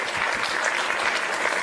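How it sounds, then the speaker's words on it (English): An audience bursts into a steady, dense round of applause that fills the space throughout, with no voices over it. "Give him a round of applause"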